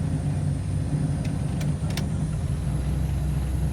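A car rolls past on the road, its low rumble and tire noise swelling briefly near the listener amid steady traffic background, with no voices.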